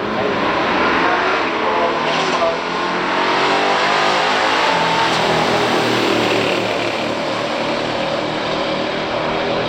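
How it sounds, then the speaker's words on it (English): A 1970 Oldsmobile F85 W-31 and a 1969 Dodge Super Bee roar loudly down a drag strip, their engines screaming at full throttle without a break. "James Cright, a 1970 F85 W-31 Oldsmobile, up against Dan Kruger."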